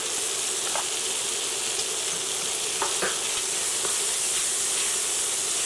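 Onion and garlic sauté in a hot pan for a Filipino meat pie filling, giving a steady, close sizzle and hiss with a few faint stirring clicks and no talk.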